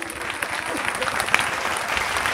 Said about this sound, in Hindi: एक बार आप लोग अपने सम्मान में जोरदार तालियां बजा दीजिए।